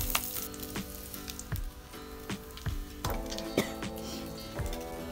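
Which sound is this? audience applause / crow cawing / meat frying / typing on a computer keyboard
meat frying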